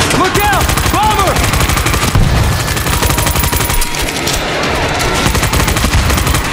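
Relentless automatic gunfire from the zombie shooter World War Z, loud and close, sustained bursts overlapping for the whole stretch with a faint character voice underneath.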